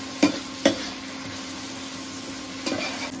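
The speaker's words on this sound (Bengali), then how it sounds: "আমার সব কিছু একদম ভালো করে কষানো হয়ে গেছে।" Spice masala being fried and stirred in a pan for a tok jhal chicken curry: a steady low sizzle with a few sharp spoon scrapes near the start and another near the end, no voices.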